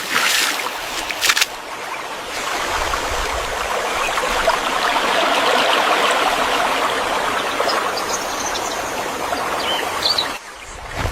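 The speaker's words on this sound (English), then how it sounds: "The sound of rushing water guides their path" Rushing water of a winding river in a forest makes a steady, dense roar that stays loud and close throughout, with no voices.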